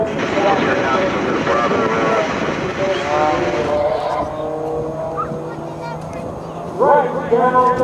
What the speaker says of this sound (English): They're going to bring the airplanes around.